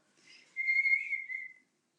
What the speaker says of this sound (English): show them how you can whistle